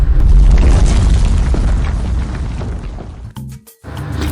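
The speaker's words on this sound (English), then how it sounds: "Now let's see earthquake." An earthquake effect in the video game Yaad Treasures is a loud, sustained low rumble and booming roar that briefly cuts out near the end before resuming.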